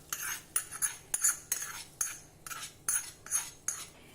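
A hot tempering with curry leaves is poured over chopped cucumber for khamang kakdi and stirred with a spoon, giving a series of close, light clinks and scrapes against the bowl at an irregular rhythm.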